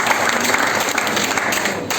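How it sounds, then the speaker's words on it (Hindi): Audience applause at a company product presentation, a steady dense wash of clapping that fills the whole two seconds at an even level with no talk over it. "एक बार 2 बार तालियों से इसको रखें।"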